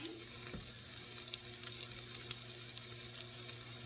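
Garlic frying in a pan while making sausage and pepper pasta, a steady low sizzle with a few faint stirring scrapes, quiet and continuous.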